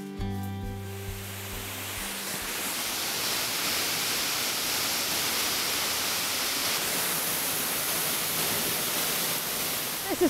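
At Loch Ard, a waterfall pours into a pool with a steady, full rushing hiss that continues unbroken after a short tonal opening.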